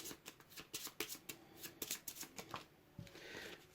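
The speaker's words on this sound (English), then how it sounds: "shuffle the arsenal" Board game cards for Puzzle Dungeon being shuffled by hand, a run of quick close riffling bursts with short pauses in a steady rhythm, no voices.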